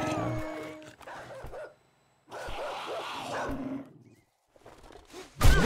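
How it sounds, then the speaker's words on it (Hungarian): Dogs in the 7 Days to Die survival game give a few yips, whimpers and growls in separated bursts, with gaps of quiet between them and a sharp, loud burst at the end. "Még egy kutya."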